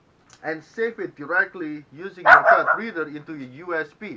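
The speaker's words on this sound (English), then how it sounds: "I'm sorry about my dog." A pet dog barks and yips in short bursts indoors, close and fairly loud, overlapping someone talking throughout.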